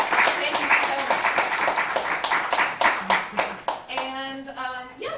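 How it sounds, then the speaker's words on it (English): An audience applauds a panel at a Pride event on disability in the LGBTQIA+ community, a brisk run of rhythmic clapping that thins out toward the end as voices come in over it. "I want to give a round of applause to our fabulous panel."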